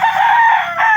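A rooster crows loudly at close range, a single strained call of about a second that dips briefly near the end before rising again.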